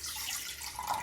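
Water, measured by the glass for a carum-and-cumin home remedy, pours in a short, close, soft trickle with no voices.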